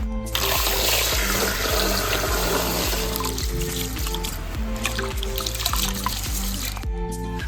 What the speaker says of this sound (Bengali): চাল ভালো করে ধুয়ে নিচ্ছি।